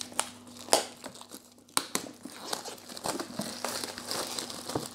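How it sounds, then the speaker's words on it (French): Packaging crinkles and rustles, with sharp crackles and tearing sounds, as boxes of a card game are opened up close. "je suis toujours aussi doué pour ouvrir mes boîtes"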